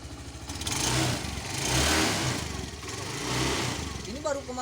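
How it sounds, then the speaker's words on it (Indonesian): A 2014 Honda Scoopy 108 cc motor scooter engine runs steadily nearby, its revs rising and falling slightly, with a brief voice near the end. "Boleh dengerin sebelah sini nih mesinnya."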